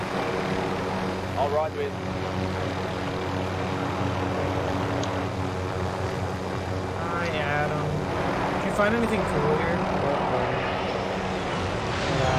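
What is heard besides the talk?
helicopter engine in video game Warzone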